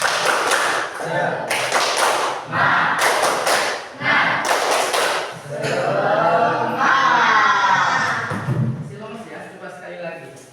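A classroom of students performs a rhythmic spirit clap, bursts of loud group clapping in a patterned beat separated by short gaps, followed by the children chanting together in unison.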